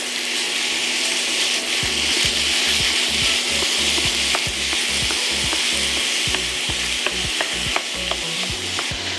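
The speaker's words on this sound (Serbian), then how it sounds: "Na zagrejano ulje stavljam 500 g govedine, mleveno meso" 500 g of minced beef sizzles steadily in heated oil in a pan, with a constant loud crackling frying hiss and occasional stirring clatter, no voices.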